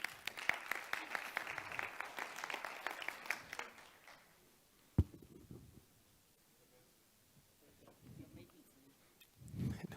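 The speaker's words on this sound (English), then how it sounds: "Ladies and gentlemen, a round of applause," Applause at a networking event for the cultural and creative industries, moderate clapping for about four seconds that dies away, followed by a sharp knock and quiet room sounds with brief low rumbles.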